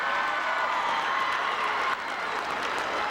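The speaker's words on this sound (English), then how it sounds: "let's give a big round of applause to both of these teams" A crowd at a high school Division I basketball final applauds continuously, steady clapping with scattered cheers washing across the gym.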